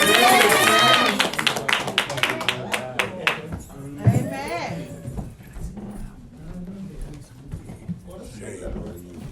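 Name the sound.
church congregation clapping hands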